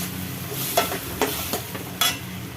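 Cut vegetables such as yam, brinjal, elephant foot yam and raw plantain are stirred in a hot pan for a Tamil kara kulambu, with a steady sizzle and a few sharp scraping clacks, close and without talk.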